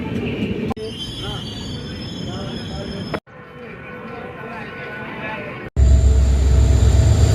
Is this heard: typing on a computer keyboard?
no